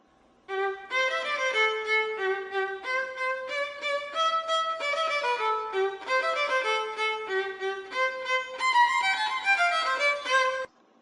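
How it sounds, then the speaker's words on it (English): A solo violin plays a lively melodic phrase of quick bowed notes, bright and close, continuous for about ten seconds with no voices. "Okay, that is the violin."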